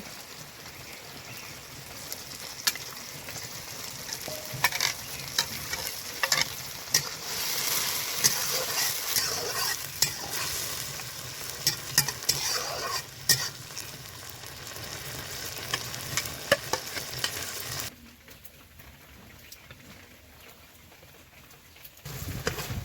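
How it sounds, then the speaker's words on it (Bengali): Shrimp coated in turmeric and salt sizzle in hot oil with ginger-garlic paste and spices, a steady close frying hiss with crackles, then quieter after the pan settles. "দেখো মশলা ফুটেছে এবার আমি হলুদ লবণ মাখানো চিংড়ি মাছ দিয়ে দিব"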